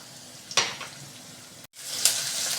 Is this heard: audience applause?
no